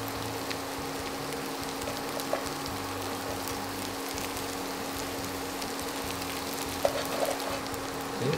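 Rice and softened cabbage frying in a pan, giving a steady, close sizzle with a faint hum underneath and a few small scrapes near the end.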